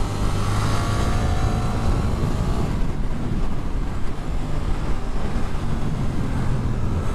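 A Suzuki GSX-8S motorcycle on the move, its engine droning steadily under heavy wind rush with no distinct rev peaks, loud and continuous throughout.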